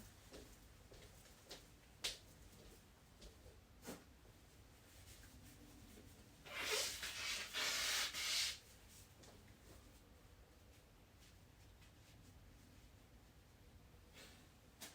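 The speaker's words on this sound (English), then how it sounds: "I'm gonna blow my nose real quick." A brief, forceful nose blow in the middle of a quiet room, framed by faint scattered clicks and rustles.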